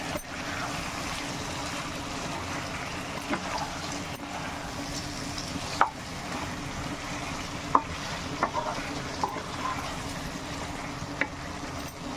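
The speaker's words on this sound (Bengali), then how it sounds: "মাংসটা ভালো মতন করে কষানো হয়ে গেছে" Chicken masala being stirred and fried in a pan, a steady sizzle with repeated spoon scrapes and a few sharp knocks against the pan, close and moderate in level.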